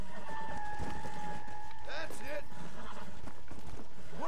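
Horse hooves clip-clopping in Red Dead Redemption Undead Nightmare, a run of quick hoofbeats mixed with game effects, with a voice talking over them.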